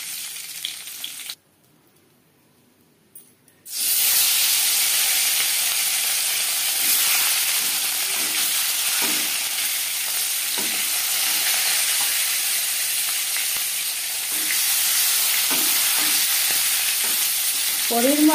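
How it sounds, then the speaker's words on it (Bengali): Tilapia fish frying in hot oil for a spicy curry makes a loud, steady sizzle close by, broken by a short quiet pause near the start before the crackle resumes. "পরের মাছ একইভাবে ভেজে নেব।"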